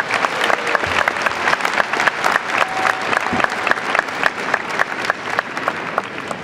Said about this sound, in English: Please join me in a round of applause for the Master of Medical Management students